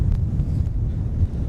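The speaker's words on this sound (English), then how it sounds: "for right now it's a little bit too windy" Low rumbling wind buffets the microphone at RSPB Bempton Cliffs in a continuous muffled roar, close and heavy, with no other clear sounds.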